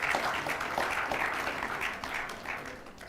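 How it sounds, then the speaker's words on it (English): Audience applause at a healthcare management conclave rings out for the branding team, a steady dense patter of many hands, fairly close and filling the whole stretch without a break. "So big round of applause to Floyd and branding."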